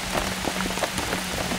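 Steady rain falling across a golf course during a tournament round, a dense even hiss of drops spread evenly throughout, with no talking.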